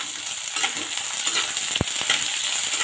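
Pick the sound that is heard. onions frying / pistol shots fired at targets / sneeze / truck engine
onions frying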